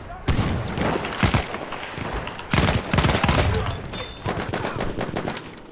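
Bursts of gunfire in Battlefield 1 Rush mode, clustered volleys of rapid shots at close range, with a voice talking over parts of the exchange.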